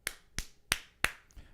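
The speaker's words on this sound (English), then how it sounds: "And let's get clapping." Four sharp, evenly spaced hand claps ring out close and crisp against a quiet background, followed by a faint fifth tap.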